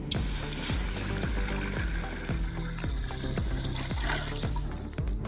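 Water poured into a heated pan while making wheat halwa hisses and sizzles loudly, with repeated sharp splashing bursts at a rough rhythm over a continuous frying crackle, close by with no talking.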